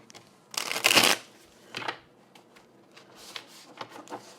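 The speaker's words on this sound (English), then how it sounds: "Let's just do a quick shuffle here." Brisk shuffling of a tarot card deck up close, one long riffle burst followed by a shorter one and a few lighter taps and shuffles, heard alone in a quiet room.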